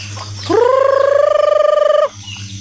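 A single drawn-out rooster crow, loud and close, rising then holding steady for about a second and a half over a low background hum.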